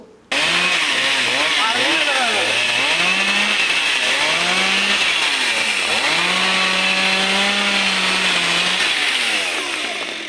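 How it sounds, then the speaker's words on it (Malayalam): A chainsaw cuts a tree that fell across a road in wind and rain, running loud and close, its engine pitch rising and falling as it bites into the wood, steady for the whole stretch. "നാട്ടുകാരുടെ സഹായത്തോടെ മരം മുറിച്ചുമാറ്റി ഗതാഗതം പുനഃസ്ഥാപിച്ചു"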